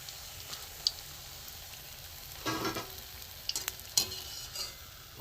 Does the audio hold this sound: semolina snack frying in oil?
yes